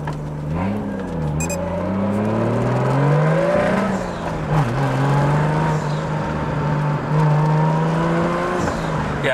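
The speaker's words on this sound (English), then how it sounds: "with that straight pipe, it just sounds... Yeah, and I can hear the turbo spooling up real good there" A Toyota JZX100 Mark II Tourer V with a 1JZ engine and straight pipe, loud raspy exhaust revving and droning up and down close by, with a turbo whine rising as it spools.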